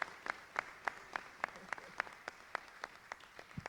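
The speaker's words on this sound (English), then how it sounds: "Let's give her a round of applause as she comes up." Audience applause at a Detroit mayoral announcement, a thin, steady run of individual claps at an even rhythm, fairly faint and sparse, as if from a small group.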